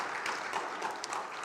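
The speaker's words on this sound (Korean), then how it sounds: "박수하겠습니다." A church congregation at a Sunday worship service gives a brief round of applause, soft and distant, with a steady patter of clapping throughout.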